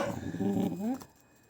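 A dog growls and whines up close for about a second, a low rumbling vocalization that cuts off abruptly into quiet.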